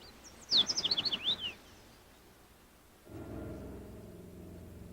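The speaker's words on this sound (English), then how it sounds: "migrating warblers, which fly south for the winter to escape the cold" Migrating warblers rest in tropical forest in Belize, giving a quick burst of thin, high chirps about a second long, followed by a low rumbling background.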